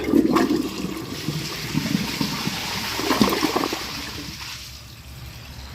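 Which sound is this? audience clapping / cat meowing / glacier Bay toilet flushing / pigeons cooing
glacier Bay toilet flushing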